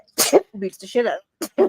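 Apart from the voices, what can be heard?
sneeze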